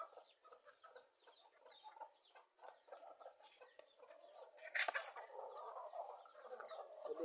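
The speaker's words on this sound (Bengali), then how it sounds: "আমাদের দেশি লাতা মোরগটা।" Free-ranging native Bangladeshi backyard chickens and a local rooster clucking steadily at moderate distance, many short overlapping clucks with a louder burst midway, no voices.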